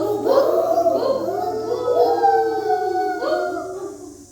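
Children at an anganwadi in Vengurla mimic a dog's howl with their voices, several rising and falling wails overlapping for about four seconds, loud and close.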